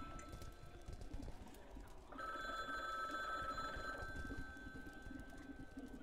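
A telephone rings in the indie horror game Last Stop: Station 66, a faint electronic bell trill lasting about two seconds amid quiet background ambience and footstep-like clatter.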